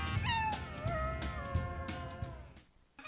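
A dog vocalizes in a Subaru Forester advert with a few drawn-out, tonal howling or whining cries, fairly close and clear, fading out near the end.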